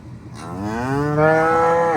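A cow lets out one long, loud moo close by while cattle are being moved on a ranch toward a gate at calving time, the call rising and holding steady before cutting off abruptly.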